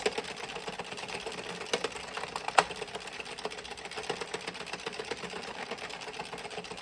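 An Addi 46-needle knitting machine knits two rows of yarn, its carriage producing a steady, close, continuous mechanical clatter with fine rapid ticking throughout.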